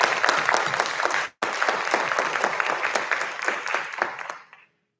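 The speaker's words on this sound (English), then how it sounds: "Please, a round of applause." Audience applause at a school PTA council awards night for a principal's award winner: a dense burst of clapping from a hall crowd, briefly cut off then resuming, fading out at the end.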